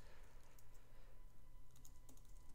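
Typing on a computer keyboard, a faint, quick run of soft key clicks heard up close over a low background hum.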